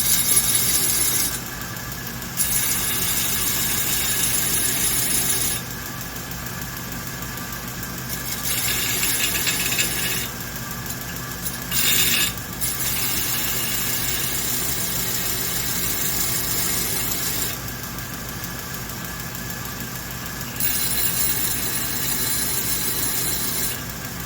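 A belt grinder runs with a steady, loud whine while it sharpens the teeth of a self-feed wood-cutting auger bit, and the pitch and intensity shift repeatedly as each tooth is pressed to the belt.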